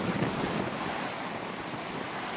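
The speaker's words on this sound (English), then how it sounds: "Here comes a big wave." A big ocean wave crashes during a windstorm, a continuous loud roar of surf and gusting wind buffeting the microphone throughout.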